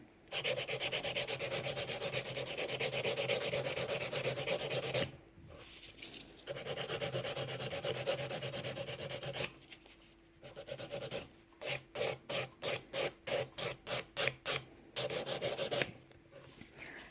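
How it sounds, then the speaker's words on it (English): A 180 grit nail file blends nail tips with steady, close rubbing strokes, first in long continuous passes, then in quick rhythmic short back-and-forth rasps separated by brief pauses. "Now I'm going to keep going with the 180 grit file."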